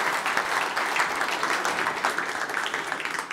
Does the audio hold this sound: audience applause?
yes